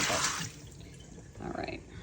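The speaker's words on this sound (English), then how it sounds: "I'm gonna go ahead and empty out all the water. Put it in my sink" Water is poured out of a Pampered Chef Freezy Fun ice mold into a kitchen sink, a brief splashy rush at the start and again near the end, with a person talking nearby.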